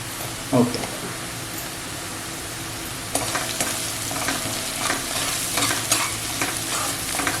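Ginger, garlic and green chillies frying over a medium gas flame for Schezwan chutney, a steady close sizzle that jumps louder after a few seconds with scraping stirs and spatula knocks throughout.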